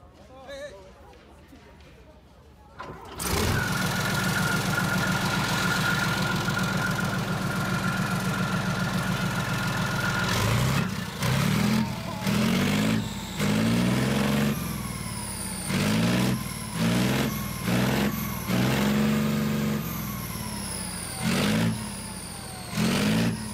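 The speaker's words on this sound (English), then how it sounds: "M1A2 Abrams at New York Air Show. It has an AVCO Lycoming AGT 1500 gas turbine engine" M1A2 Abrams tank at an air show, its AGT 1500 gas turbine engine spinning up after a quiet start into a loud steady whine, then rising and falling in repeated revs, with people talking at times.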